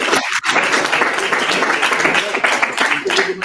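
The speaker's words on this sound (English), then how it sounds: "Big round of applause for Ido" A pitch-event audience gives a startup investor a loud, dense round of applause. The clapping is sustained and close, with voices mixed in.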